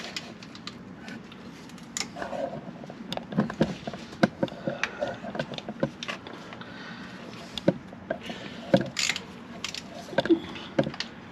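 A socket wrench ratchets a bolt loose on a 2012 Linhai 400 ATV, giving rapid, close, irregular metallic clicks in short bursts, with small knocks and light handling noise between them.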